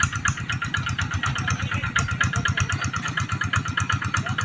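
A tractor engine chugs steadily nearby, a loud, rhythmic low-pitched rumble with no voices.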